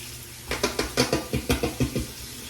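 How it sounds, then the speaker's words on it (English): Trimmer combs are rinsed under running tap water to wash out hair, with about ten quick rhythmic splashing swishes over a steady faint flow of water. "Let's give this a rinse off."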